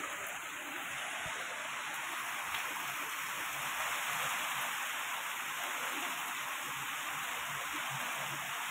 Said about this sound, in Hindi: बहुत वर्षा होचे बहुत वर्षा।